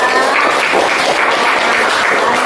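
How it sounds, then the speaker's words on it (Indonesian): Classroom applause from a group of students, a steady dense patter of many hands clapping close by and filling the whole moment without pause. "Kasih applause dong"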